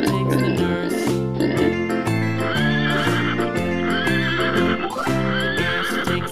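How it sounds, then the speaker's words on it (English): A horse whinnies in short wavering calls, repeated a few times over a continuous, loud children's farm-song backing track. "Horse."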